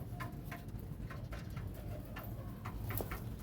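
Pigeons in a coop give soft, low cooing with scattered light pattering and fluttering sounds, close by and fairly quiet, repeating irregularly over a steady background hiss.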